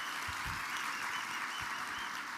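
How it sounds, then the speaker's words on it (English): Room full of keynote attendees at an auto industry event applauds steadily, a continuous even wash of clapping heard from a distance, fairly faint and unbroken with no talking. "Give her a round of applause."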